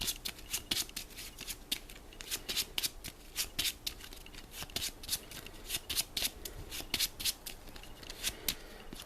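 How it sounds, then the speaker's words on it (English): Cards from a Marvel Champions card game deck are riffle-shuffled several times in quick bursts, crisp and close, with a brief pause between shuffles. "Shuffle the Invocation deck."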